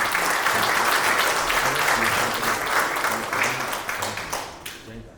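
Audience at a Korean commemoration ceremony for a battle anniversary applauds warmly, a full burst of many hands clapping that holds steady, then gradually thins and fades, with a low hum beneath.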